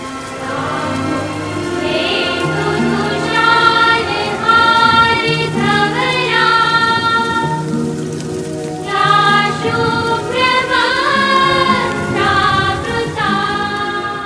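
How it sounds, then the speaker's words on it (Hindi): Heavy rain pours steadily outside a school building, a dense continuous wash that lasts throughout, mixed with sustained tonal background music. "ओहो, लगता है बारिश लंबी होती ही रहेगी।"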